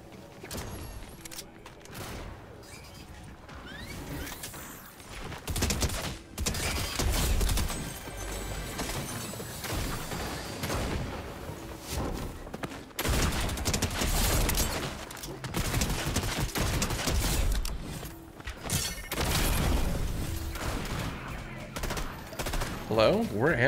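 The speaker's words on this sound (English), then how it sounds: "Combat SMG really good." Combat SMG fire in the video game Fortnite: repeated rapid bursts of automatic gunfire, loud and close, over about twenty seconds of continuous in-game action.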